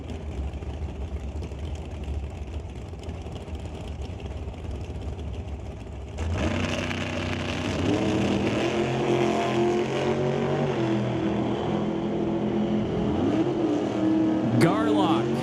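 Drag racing engines at an NHRA event, a 632-cubic-inch big block Chevy Camaro against a dragster: steady engine rumble at first, then a louder, dense multi-engine roar with rising tones, with an announcer talking over it.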